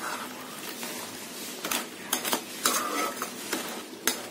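A spoon stirring spicy crab masala in a pan over a slow flame, giving intermittent scraping and clattering strokes against the metal over a faint sizzle, close up, with no talking.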